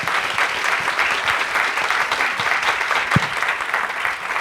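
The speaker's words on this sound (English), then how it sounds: "Let's have a big round of applause for our panelists." Audience at an innovation event gives panelists a steady round of applause, a dense, even wash of clapping that holds at the same loudness throughout with one sharper clap standing out near the end.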